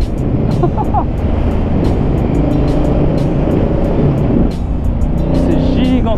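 A 2019 Honda Africa Twin motorcycle engine rumbles loudly and steadily throughout, mixed with heavy wind rush from riding, with no clear pauses.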